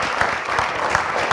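Applause from a television studio audience greeting a singer, a dense, steady patter of many hands with a few sharper claps standing out, loud and close.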